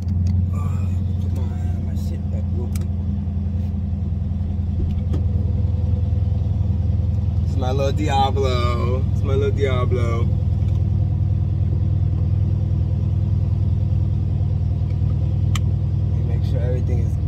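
A Dodge Challenger Scat Pack that has sat unused for a long time idles with a steady, deep engine rumble close by. The engine note swells slightly midway as someone speaks over it.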